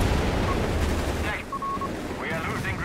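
A rocket strafe pounding units in the real-time strategy game Company of Heroes 3, heard as a dense, continuous roar of impacts and blasts under a caster's voice.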